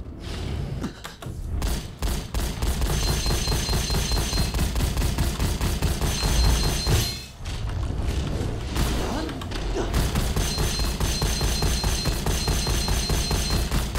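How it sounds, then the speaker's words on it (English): Continuous rapid gunfire in a video game, dense repeated shots in steady bursts with mechanical clatter and thuds, loud and close, with only brief pauses. "Alright, let's shoot Luwu a bunch."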